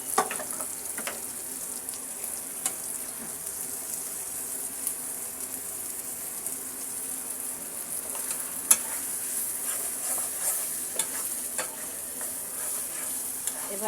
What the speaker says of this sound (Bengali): এবার আমি কাঁচামরিচ কুচো এবং হলুদের গুঁড়ো দিয়ে সুন্দর করে ভেজে নেব।